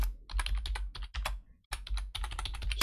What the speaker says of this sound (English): So really simple, I'm just gonna type it in.